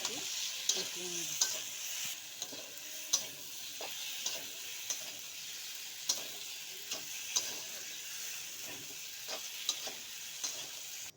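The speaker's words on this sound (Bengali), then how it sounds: "এখন ভেজে রাখা আলু পটলগুলি ওর মধ্যে দিয়ে দিলাম, দিয়ে আরেকটু কষিয়ে নেব।" Fried potatoes and pointed gourd being stir-fried with chopped tomatoes in a pan, a soft continuous sizzle with regular light ticks of a spatula against the pan.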